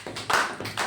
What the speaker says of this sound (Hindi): तो एक बार तालियां हो जाए दोनों बच्चों के लिए।